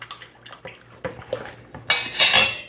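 Stirring yeast into water in a bowl while making homemade bread, with light scraping and clinking of a utensil against the bowl that builds into louder, busier stirring near the end.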